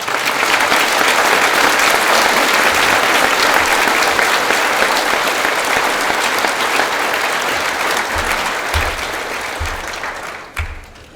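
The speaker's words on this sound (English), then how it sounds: "Can we please have a round of applause?" Audience applause at a Bigfork High School graduation ceremony, a loud, dense, steady roar of many hands clapping that holds for about ten seconds and then tapers off, with a few low thumps near the end.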